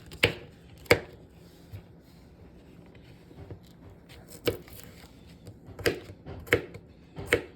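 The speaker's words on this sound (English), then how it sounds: "Some garlic cloves. Just going to chop them up real fine." A knife chops garlic cloves finely on a cutting board, giving sharp, irregular knocks that come in short clusters with pauses between them, close and fairly loud against a quiet kitchen.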